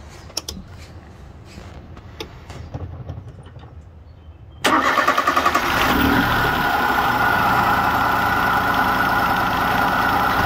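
A car engine cranks and catches just after a tachometer install, then settles into a steady loud idle; before it starts there are only quiet clicks and handling noises, close by and without speech.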